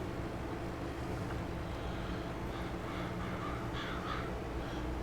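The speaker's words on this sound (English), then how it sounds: "go away, crows." Crows cawing in Farming Simulator 22 on the Glenleathann farm map, a few harsh calls at middle distance over a steady low rumble of wind and machinery.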